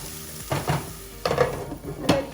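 Red onion sautéing on medium heat in a pan, a low steady sizzle broken by several scraping stirs of a utensil against the pan.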